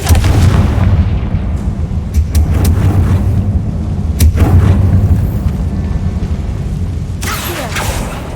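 The Confringo fire spell in the video game Hogwarts Legacy bursts with loud, rumbling booms over a dense, continuous wash of game noise, with a sharp whoosh near the end.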